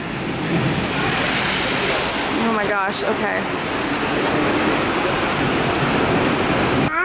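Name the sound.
heavy rain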